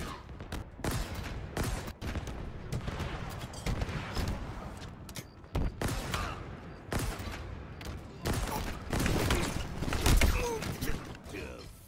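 Rapid bursts of Halo Infinite gunfire crackle and thump repeatedly throughout, loud and dense, with a voice speaking over parts of the action.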